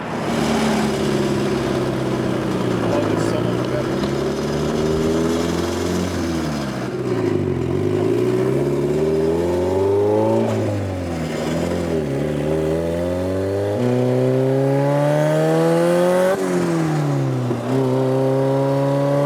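A car engine with its MAF sensor newly plugged back in, after a failed eBay turbo, revs repeatedly, the pitch climbing and falling in several rising sweeps over a steady idle, close and loud, with no talk.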